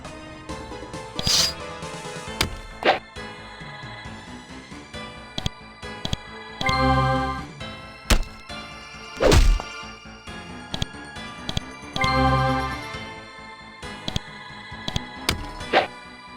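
Combat in the video game Blades of Avernum against a haunted creature, with repeated sharp weapon strikes, thuds and crashes at irregular intervals, some ringing briefly, mixed with bursts of game effects.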